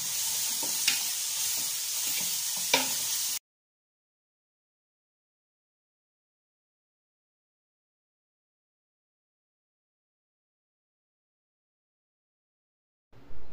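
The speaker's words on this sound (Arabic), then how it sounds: "غادي ندير البصيله غير في داك الزويته النيت فين شحرت خيزو، فين شحرته غادي نشحر حتى البصيله" Onion sizzles in hot oil in a pan, a steady close frying hiss with a couple of stirring knocks, cut off after about three seconds by silence before a brief return at the end.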